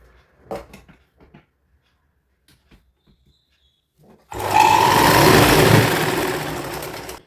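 A sewing machine joins two parts of a little girl's frock. Quiet handling taps come first, then the motor starts and runs loud and steady for about three seconds, close by, before easing slightly.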